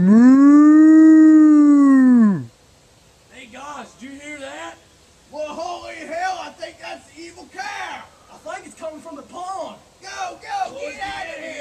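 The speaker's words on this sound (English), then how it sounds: "Cow's gonna kill us." A cow lets out one long, loud bellowing moo close by, followed by excited voices talking over each other.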